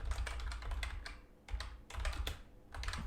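Keys tap on a computer keyboard while spreadsheet formulas are entered, with quick bursts of close clicking separated by brief pauses and no voices.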